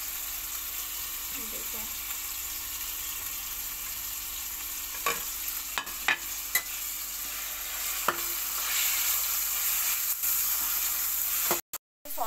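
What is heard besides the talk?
boneless chicken pieces frying and being stirred in pan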